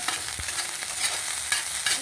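Aloe vera flowers tossed into a sizzling tempering in a pan, a dense continuous crackling fry close by with a few soft stirring knocks.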